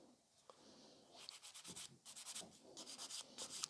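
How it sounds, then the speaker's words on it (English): A buffer is worked rhythmically over a sculpted fiber gel nail extension on an index finger, giving soft close-up scratchy strokes that repeat in quick even bursts, faint and alone. "Index finger is ready for a buffing."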